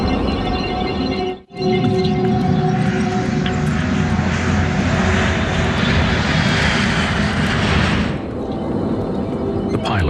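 Alaska Airlines Flight 261, a crippled airliner with a jammed stabilizer, flown manually at 32,000 feet off the coast near Los Angeles: a loud, steady engine roar with a brief dropout early on, easing slightly near the end.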